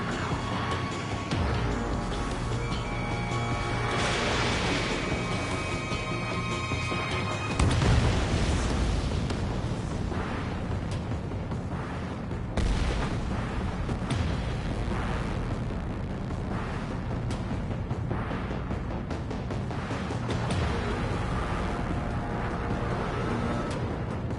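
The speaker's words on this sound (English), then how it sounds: "Hit by a missile." A missile strikes an aircraft in Ace Combat 7, heard as a rumbling explosion that swells out of dense, loud in-game engine roar and music, with another jolt midway.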